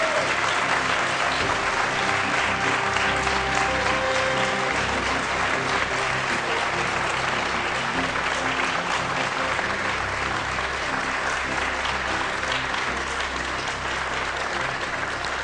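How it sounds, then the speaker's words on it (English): Sustained applause from a large audience greeting a presidential candidate at a live televised Kenyan election debate in 2013: a dense, unbroken wash of clapping and crowd noise at steady loudness, with faint voices mixed in. "Let's give him a round of applause."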